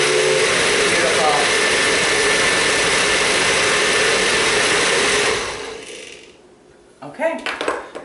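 A blender whirs loudly and steadily through thick hummus for about five seconds, then cuts off, followed by a few light clinks and knocks.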